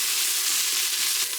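Salted red onions dropped into a hot pan give a steady, bright sizzle that holds evenly throughout, close up and alone without any talking.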